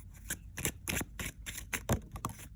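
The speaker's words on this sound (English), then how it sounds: "I'm going to get back to shuffling." Tarot cards being shuffled by hand, a quick run of about eight crisp riffling bursts in a steady rhythm, close and clear with no talk.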